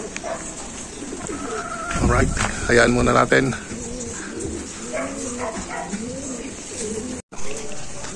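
A racing pigeon arrives home on a rooftop during the Albay 5th lap race, giving soft cooing calls close by while someone talks over it and a dog barks briefly.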